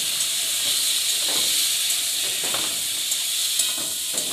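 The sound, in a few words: vegetables added to hot pan, sizzling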